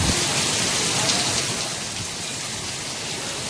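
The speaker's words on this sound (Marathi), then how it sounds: "पाऊस पडतो ते मला आवाज येत असेल पावसाचा खूप सारा मोठा आवाज" Heavy rain pours down in a dense, continuous hiss, loud and close, drumming steadily on surfaces with no voices.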